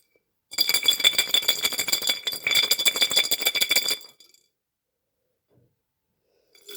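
Spruce seeds are shaken hard in a one-liter glass jar covered by a hand, making a bright, fast rattling for about three and a half seconds with a short pause midway, then silence.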